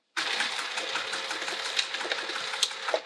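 Sewing machine stitching vinyl onto one layer of a luggage sleeve, a continuous close, loud mechanical whir with a fast rhythmic needle chatter and small bumps in pace, starting abruptly and running throughout.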